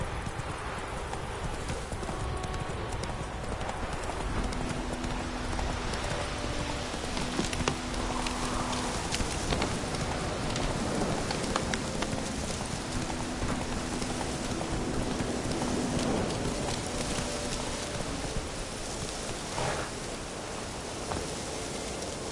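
Roach, Geralt's horse in The Witcher 3 video game, gallops through rain, with steady rhythmic hoofbeats over a continuous hiss of rainfall lasting throughout.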